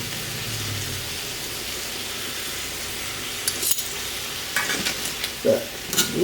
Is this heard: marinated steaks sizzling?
yes